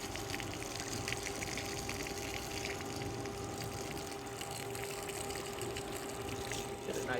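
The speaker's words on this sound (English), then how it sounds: "you can see the pressure coming out of that hose" Water sprays from a hose through a filter, a steady rushing gush with a pump-like hum running evenly and fairly faint throughout.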